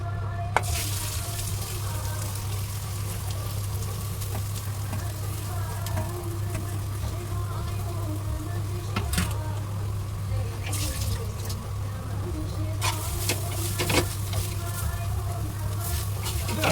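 Grated coconut roasting in ghee is stirred in a pan, a continuous close sizzle with scraping spoon strokes and occasional sharp clinks, under a steady low hum while someone talks now and then.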